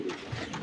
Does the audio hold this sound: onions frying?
no